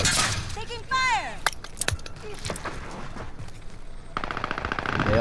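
Gunfire in the video game Warzone, rapid bursts of shots and sharp cracks mixed with glassy impacts, under excited talk from players.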